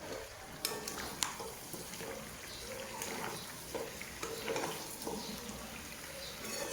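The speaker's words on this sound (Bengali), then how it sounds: "অল্প হাতে সময় নিয়ে ভালো করে কষাবো।" Chicken legs, necks and liver are slowly sautéed with spices in a pan for a home-style kasha. A faint, steady sizzle carries a few sharp spoon clinks and soft scraping stirs.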